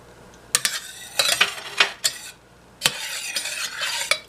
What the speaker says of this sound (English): you want to give this a stir so nothing sticks to the bottom